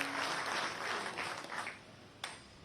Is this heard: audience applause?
yes